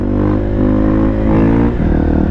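A 2017 KTM 450 EXC-F motorcycle engine revs loudly and close up, a steady droning roar that swells slightly and dips near the end, with no one speaking.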